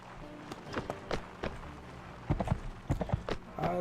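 Horse hooves clip-clop in the medieval video game Mount&Blade With Fire and Sword, a run of sharp, uneven hoofbeats close by, with a few pauses and clustered strikes.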